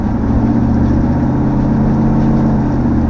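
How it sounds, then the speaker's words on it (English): A swapped GM L83 Gen V V8 engine with Black Widow mufflers runs steadily up close, a deep continuous rumble with a slight rough pulse and no voices. "I love this engine. It sounds so different."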